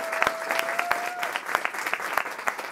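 Conference audience applause at a mental health conference, with many hands clapping and sharp individual claps standing out, sustained and steady throughout, and a faint tone briefly audible near the start.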